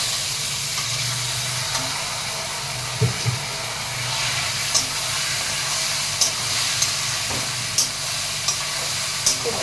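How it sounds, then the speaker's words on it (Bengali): Bottle gourd hits a hot pan on a gas stove, giving a soft, steady sizzle and hiss with a few faint clinks, heard fairly quietly with no talk. "এবার লাউটা দিয়ে দিচ্ছি।"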